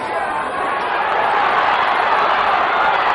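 A boxing crowd at the Chris Eubank vs Michael Watson rematch roars and cheers loudly and steadily throughout, a dense, sustained wall of arena noise with no clear break.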